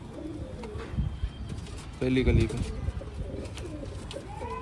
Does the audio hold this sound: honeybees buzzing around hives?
no